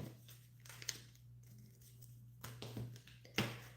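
Quiet riffling and rustling of a tarot deck being shuffled, a few brisk bursts with soft snaps between, close and gentle.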